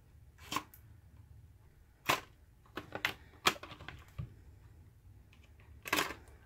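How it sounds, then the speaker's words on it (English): Scissors cutting into plastic product packaging with a small carrying case, producing scattered crisp snips and crackles, quiet and close, with pauses between the cuts. "Let me use the scissors."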